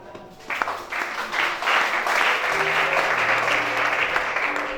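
A crowd bursts into applause and cheering, starting after a brief quieter moment and swelling into loud, sustained clapping with shouts mixed in.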